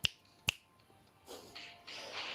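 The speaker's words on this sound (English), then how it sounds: "all I can do is click my fingers because I can't clap my hands" Two sharp, close finger snaps ring out about half a second apart, followed by softer background rustling and noise.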